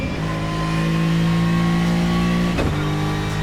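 Adonis V8 GT3 race car engine in the Assetto Corsa racing game, roaring loud and steady at high revs, with a brief dip like a gear change near the end before the drone resumes.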